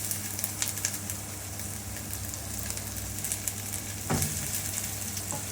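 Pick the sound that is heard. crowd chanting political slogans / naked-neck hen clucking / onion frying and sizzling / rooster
onion frying and sizzling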